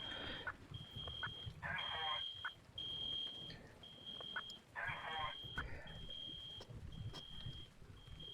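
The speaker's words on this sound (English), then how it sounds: "How do I reset the fire alarm?" A video game fire alarm beeps in a steady repeating pattern of short high tones during a bank fire scene, continuing over other game sounds and brief bursts of activity.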